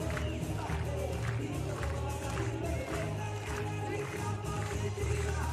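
A stadium crowd at a World Athletics Continental Tour meet in Košice roars and claps for a high jumper. The noise is a dense, steady wash with a regular pulse of rhythmic claps running through it.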